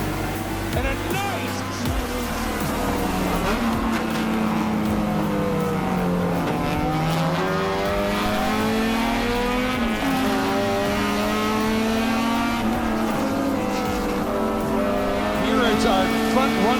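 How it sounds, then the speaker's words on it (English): Race cars roar off at the green flag in a racing video game, a dense, steady engine drone with rising and falling pitch as they accelerate, continuing unbroken under an ongoing commentary voice. "Andrew Rains brings the field up for the green for this final fourth race"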